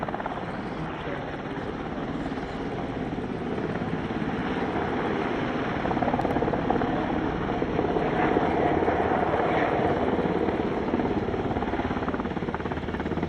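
An MH-60 Seahawk helicopter drones steadily overhead at an airshow, its rotor thrum and engine whine continuous and loud throughout, growing slightly stronger toward the end.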